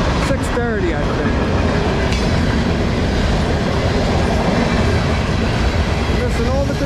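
A CSX or Norfolk Southern freight train rolls past close by on the Lehigh Line at dawn, a loud, steady roar of wagons with rhythmic wheel clatter and brief squeals throughout.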